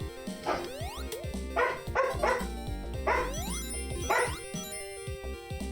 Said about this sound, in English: Now I'm distracted by the barks.